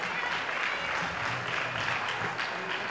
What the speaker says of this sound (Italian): farei un grosso applauso in rappresentanza di tutto il volley